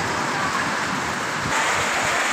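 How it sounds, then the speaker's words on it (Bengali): Heavy rain pours steadily in a dense, unbroken hiss, loud and close, with the downpour swelling slightly in the second half and no voices present. "দেখ এখনও ভালোই জোরে জোরে বৃষ্টি হচ্ছে"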